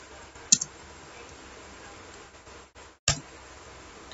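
A couple of sharp keyboard key clicks, one near the start and a louder single press about three seconds in, over quiet room background while installing packages in a Linux terminal.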